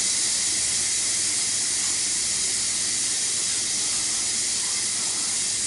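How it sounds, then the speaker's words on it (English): A pressure cooker holding jambalaya vents its steam through a manual release, giving a loud, steady, unbroken hiss from start to end with no voices. "now we can manually release our pressure"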